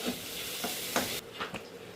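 Chowmein ingredients being sautéed in a pan make a brief, close sizzle punctuated by a few quick scraping strokes of a spatula, with no voices.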